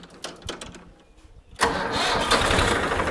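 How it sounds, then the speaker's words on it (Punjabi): A 2019 Swaraj 963 tractor engine cranks briefly with quiet knocking sounds, then fires and settles into a loud, steady, close running rumble, with no talking. "ਇੱਕ ਵਾਰੀ ਇਹਦੀ ਸਟਾਰਟਿੰਗ ਚੈੱਕ ਕਰਵਾ ਬਾਈ ਕਰਾਂਗੇ ਸਟਾਰਟ"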